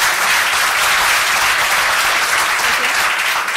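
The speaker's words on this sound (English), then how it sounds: "Please, your applause for Yulie Foka-Kavalieraki." A conference audience gives a speaker sustained applause, a dense, steady wash of clapping from many hands filling the hall without letup.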